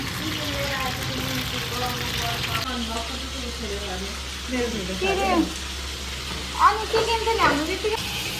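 Dried red chillies and other ingredients for homemade momo achar frying in a pan, a soft sizzle under a low hum that stops partway, followed by clinks and handling noises; bursts of nearby voices and movement come late.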